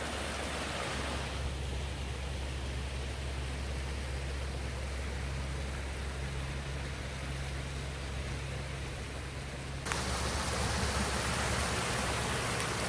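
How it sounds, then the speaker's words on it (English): A waterfall on a natural swim pond gives a continuous, close rush of tumbling water, steady broadband splashing that carries on alone with no voices. "We want lots of tumbling water for lots of oxygen."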